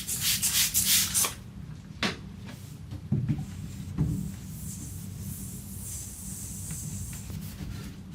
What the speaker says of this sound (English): it was time to give this dresser inside and out a really good cleaning.